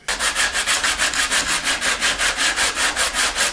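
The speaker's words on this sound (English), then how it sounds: "a machine sander takes away the 40 grit scratches" A machine sander works over body filler with coarse 40-grit scratches, a close, loud rasping hiss pulsing in a fast even rhythm of about five strokes per second, heard alone.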